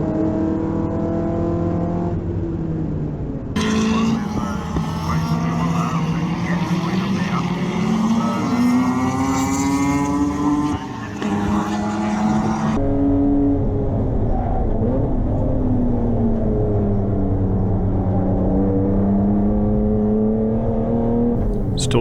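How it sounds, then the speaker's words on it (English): Race cars lapping at Hampton Downs, with a gold Mazda RX-7 coming past: loud rotary engine howl rising and falling through gear changes, close and dominant, layered with other cars' engines and a commentator talking over it. "Scott Mills in second comes past in the Gold RX-7"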